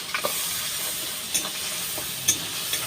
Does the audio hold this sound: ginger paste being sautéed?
yes